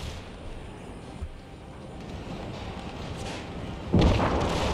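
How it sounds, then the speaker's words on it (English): Artillery rumbles through a multiplayer Empire: Total War battle as a dull, steady roar, then a louder broadband blast of impacts lands near the end. "Ooh, good artillery hits."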